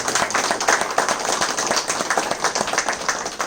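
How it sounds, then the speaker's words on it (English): An audience at a volunteer service award ceremony breaks into dense, continuous clapping that stays steady and close throughout. "Everyone has to actually give a big applause."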